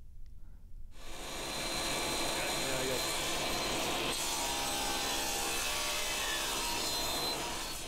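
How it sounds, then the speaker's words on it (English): A saw on a crosscut sled starts up after a short quiet moment and crosscuts steadily through wood with a loud, sustained, rasping whine. "we're just going to cut it on the crosscut sled"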